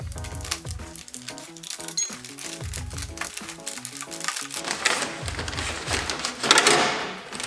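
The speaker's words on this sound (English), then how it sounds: "you come around here and start peeling the cover off" A sticky, tar-backed cover is peeled by a gloved hand from a Mazda Miata door panel: a loud run of crackling, tearing crinkles in quick irregular bursts, close up and with no voices.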